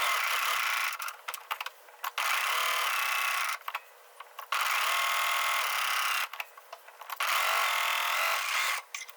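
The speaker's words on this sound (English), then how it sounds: "I'm going to serge all the way around my pocket" A serger overlock machine stitches around the edge of a bias-cut fabric pocket in three loud, steady bursts of rapid mechanical whirring, each one stopping briefly before the next run.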